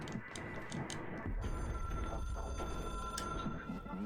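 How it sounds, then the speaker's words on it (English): An old-fashioned telephone ringtone in the video game Control trills faintly against low game ambience, its repeated electronic bell tone running steadily through the scene. "That's such a really old school ringtone too. Like very government sounding."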